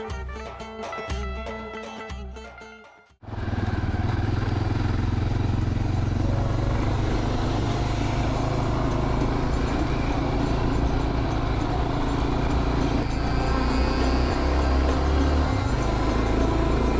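Loaded motorcycle grinding along sandy pine-forest tracks near Ars-sur-l'Adour, a steady loud engine drone with wind rush and clatter that runs unbroken after a short, quieter stretch at the start.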